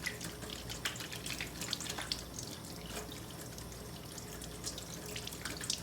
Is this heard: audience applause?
no